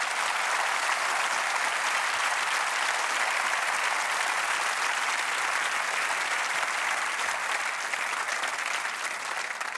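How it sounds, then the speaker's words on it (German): Sustained applause from a TV studio audience, a dense even patter of many hands clapping steadily throughout without pause. "Also das ist ein Applaus wert."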